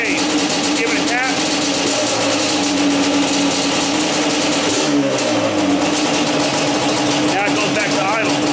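A Yamaha Banshee ATV engine drops back to a steady idle after being revved, a constant close mechanical drone with a shift in pitch midway and a voice talking over it.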